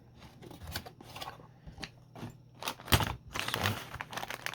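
Close, uneven cutting and crinkling as a plastic model kit box is sliced open with a knife, with scattered sharp snips and rustles of packaging and no talk.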